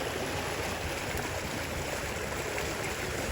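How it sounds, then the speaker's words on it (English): A flooded creek on a farm rushes past in a constant, broadband roar of flowing water, steady and moderately loud with no voices over it. "that's a lot of water coming through there."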